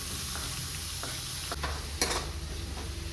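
Capsicum and onion fry in butter with cumin in a pan, giving a loud, steady close-up sizzle with a few scraping stirs and no talking.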